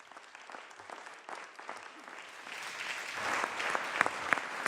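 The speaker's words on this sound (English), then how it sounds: "Can we give them a round of applause?" An audience at a legislative floor session applauds to honor 911 rescue crews, including paramedics and a pilot; dense, steady clapping swells gradually and grows louder toward the end.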